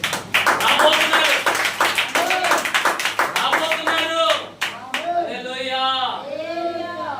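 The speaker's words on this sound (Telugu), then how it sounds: "అదే గట్టిగా చప్పట్లు కొట్టండి." A congregation at a church service claps loudly in a rapid, rhythmic burst, then the clapping gives way to someone speaking and singing-like voices.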